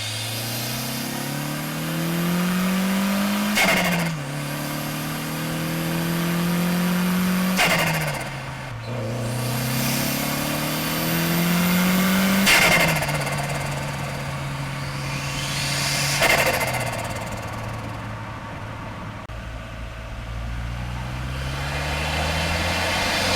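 A turbocharged Mk1 Mazda MX-5 engine pulls hard through repeated gear changes, each loud, rising rev climb breaking off briefly before building again, heard close from inside the car with no talking.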